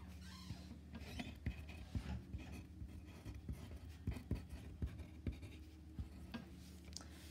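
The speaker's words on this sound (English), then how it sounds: "So I just write that down" Someone writes down an answer by hand while working a vapor-pressure problem. Quiet, close scratchy strokes come in short repeated bursts with small taps.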